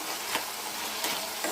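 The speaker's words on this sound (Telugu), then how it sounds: "దీంట్లో వేసేసి వేయించుకుందాము" Onions and curry leaves fry in a pan for a potato-carrot curry, a steady soft sizzle with a few brief scraping stirs of a spoon along the pan.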